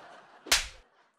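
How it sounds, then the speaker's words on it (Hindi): A single sharp slap lands on stage at a comedy show, one loud close smack with a brief crack that fades quickly, set against faint background noise. "ये थप्पड़ किस खुशी में मारा गया है?"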